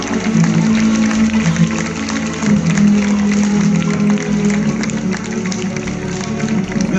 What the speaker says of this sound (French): Vous pouvez les applaudir bien fort